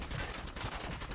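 Rapid automatic gunfire from the video game Fallout 4 rattles in a quick even stream of shots, fairly faint and compressed, with no voices.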